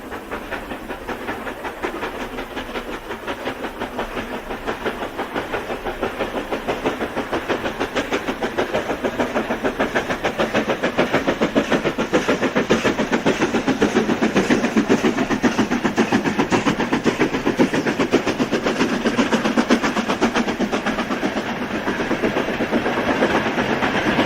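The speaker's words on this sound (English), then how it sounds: "a grimy Stanier AIF tops the summit in style with a down freight, mostly consisting of hopper wagons" A grimy Stanier steam locomotive hauls a freight of hopper wagons over a summit, its rapid exhaust beats and rhythmic chuffing loud and close with hiss and clattering wagons, no voices.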